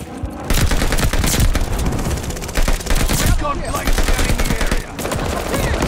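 Rapid automatic gunfire bursts loudly and nearly nonstop in Call of Duty Vanguard, dense and close with short gaps between volleys, with a voice briefly audible under the shooting.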